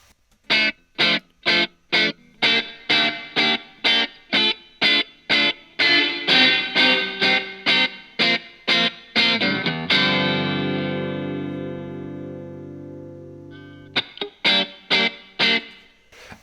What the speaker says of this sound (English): it'll trigger this reverb, and we'll start to get some reverb on our track